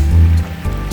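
Surf washes ashore on Boracay beach at night, a loud, close, continuous rush of water with a deep low rumble, swelling and easing over a brief moment.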